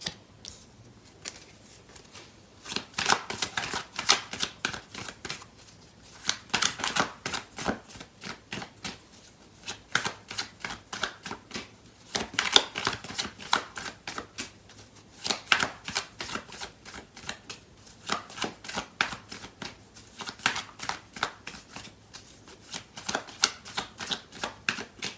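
Tarot cards being shuffled in repeated bursts of rapid riffling flutter, each run lasting a few seconds with short pauses between, close and fairly soft, with no talking.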